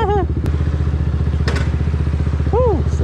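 A motorcycle rides along with its engine chugging in a fast even rhythm, close and loud, while a rider talks over it.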